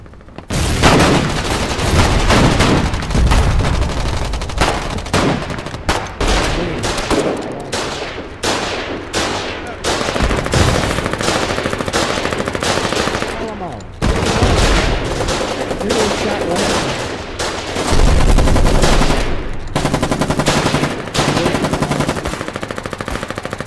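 Machine gun fire in a WWII video game set at the Alamo in 1942: loud, near, relentless bursts of automatic gunfire with overlapping shots and booms, almost continuous with brief gaps between volleys.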